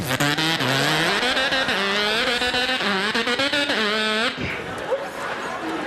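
A voice imitates a dirt bike engine with loud, close revving buzzes that rise and fall in pitch over several seconds, then breaks off into quieter audience noise.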